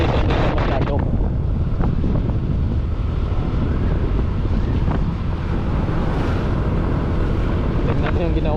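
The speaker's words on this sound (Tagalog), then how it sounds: "medyo may kalakasan yung hangin mga kabor" Strong wind near an airport runway in Roxas City, Philippines, roars steadily as heavy buffeting noise on the microphone, loud and unbroken across the whole stretch.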